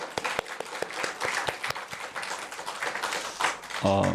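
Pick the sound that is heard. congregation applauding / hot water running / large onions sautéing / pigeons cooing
congregation applauding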